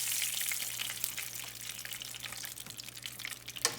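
Lake trout fillets pan frying, a steady close sizzle and crackle throughout with small spatters and a brief clatter near the end.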